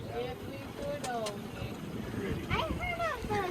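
A small boat moving on water, its low engine and water rumble running continuously under lively conversation and whistling calls from people on board.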